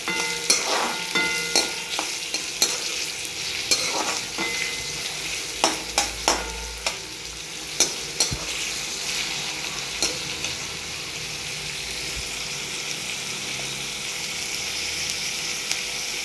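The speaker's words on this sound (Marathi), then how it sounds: "कांदा चांगला आपल्याला लालसर असा परतून घ्यायचा." Onions sauté in a pan for a bhaji, sizzling steadily while a spatula scrapes and clacks against the metal in an irregular series of sharp knocks.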